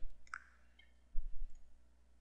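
A few light, crisp computer mouse clicks close by in a quiet room, with a soft shuffle afterward.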